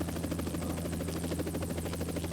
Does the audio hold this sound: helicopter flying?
yes